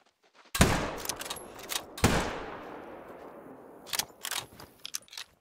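Rifle shots in the hunting game theHunter: Call of the Wild: two loud, close blasts, each with a long echoing tail, followed by softer clicks and clatter of reloading.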